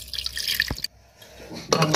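Water splashes and pours into a pressure cooker holding cabbage and tomato, with short bursts of close liquid sound separated by a brief quiet gap, then pouring resumes near the end.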